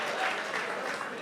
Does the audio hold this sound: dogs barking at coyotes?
no